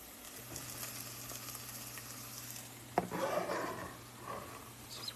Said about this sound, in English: Okay, now we're just gonna saute this a little more.